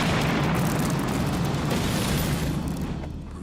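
Artillery shell explosion during a World War II Normandy landing: one loud, close, broadband boom that rolls out and slowly fades, with no talk.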